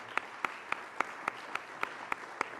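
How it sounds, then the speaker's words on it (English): Sparse, evenly spaced claps ring out at a medical conference talk, about ten sharp single hits in a slow steady rhythm, fairly faint and with no voices over them. "I think it just deserves another applause with regard to this."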